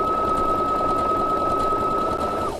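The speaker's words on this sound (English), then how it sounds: "I'm going to stitch pretty quick so you don't have to listen to this go for a long time" A sewing machine runs steadily while stitching a blind hem and overcast edge on fabric, a loud continuous whirring hum with a sustained motor whine that cuts off at the end.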